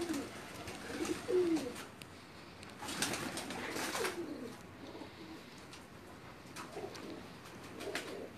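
Pigeons cooing softly in low, repeated throaty calls over steady outdoor background noise, with no talking.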